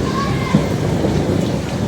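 Rain pours down steadily with a low thunder rumble beneath it, a dense continuous hiss with no break.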